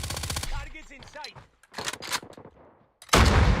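Bursts of MG82 light machine gun fire in COD Mobile, a rapid rattling volley at the start and a heavy loud burst at the end, with speech in between.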